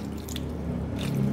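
A small amount of water is poured into a pot of sweet potatoes cooked in coconut milk, giving a soft, close dribbling and splashing that runs steadily for just over a second with no talk over it.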